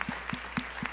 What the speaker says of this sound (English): she needs to hear a huge round of applause.